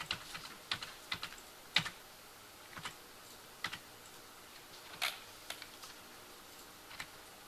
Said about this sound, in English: I'm just going to use the arrow keys there to nudge it down.